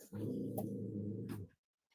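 A dog gives a low, sustained growl lasting over a second, close and fairly loud, ending abruptly into silence.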